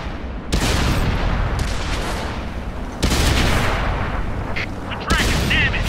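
Tank cannon shots in the online game World of Tanks, three heavy booming blasts about two and a half seconds apart, each followed by a rumbling tail.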